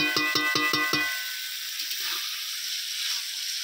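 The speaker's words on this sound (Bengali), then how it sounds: "তাহলে চলো মাংসটা রান্না করে নিই।" Meat sizzles in a hot pan, opening with a rapid series of sharp metallic scrapes from stirring, then settling into a steady, soft frying hiss.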